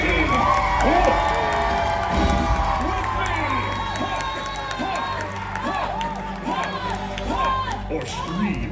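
An audience at a Hollywood Studios live show screams and cheers loudly, a dense crowd roar with children's shrill shouts and whoops, while a performer's voice calls out over it.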